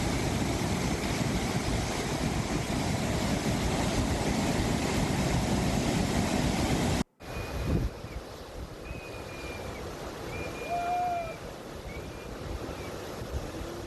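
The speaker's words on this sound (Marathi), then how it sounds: "धरणातनं सध्या 2828 क्युसेकनं पाण्याचा विसर्ग भोगावती नदीपात्रामध्ये सुरू आहे" Water rushing out of an open gate of the Radhanagari Dam into the Bhogavati river, a dense, roaring, continuous torrent, then a brief cut to a similar but softer steady rush with faint tonal sounds over it.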